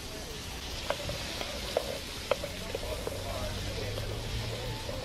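Salted vegetables for a potato, turnip and leek chowder sizzle in a pan while browning, a continuous soft frying hiss with scattered light pops and occasional ticks of a utensil.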